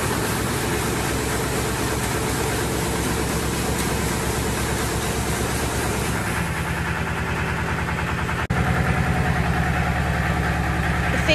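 A small tractor engine runs steadily throughout, a low throbbing drone that shifts pitch partway and steadies into a firmer idle toward the end.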